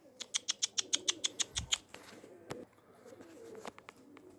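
A young tumbler pigeon coos in a quick run of about ten rhythmic, close notes, followed by a few scattered clicks, a brief flutter and faint rustling.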